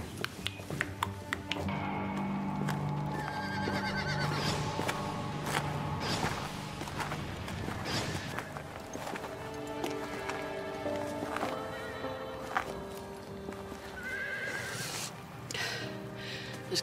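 Horse hooves clip-clopping with snorts and movement amid a busy, layered soundscape with music in a TV crime drama, steady and moderately distant.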